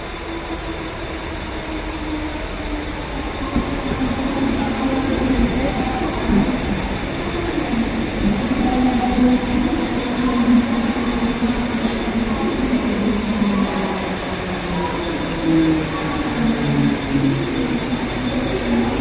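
A commuter train at a Mumbai railway station rumbles steadily past, a continuous low roar with faint wheel squeal rising and falling, loud and close throughout.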